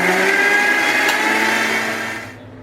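A mixer grinder crushes cashews with water into paste, grinding loudly and steadily, its high whine holding for about two seconds before the motor winds down and cuts off.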